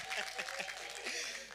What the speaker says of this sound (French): Vous pouvez les applaudir, ça va les encourager à revenir